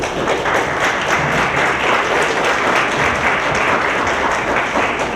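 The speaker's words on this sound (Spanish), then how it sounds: "para quienes pido un fuerte aplauso" Loud, dense applause from an audience at a public event on women's political participation in Mexico City, steady and sustained throughout with no talk over it.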